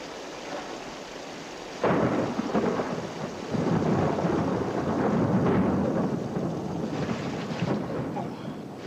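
Heavy rain pours steadily while deep thunder rumbles in, growing louder after a sudden rise and rolling on without any voices.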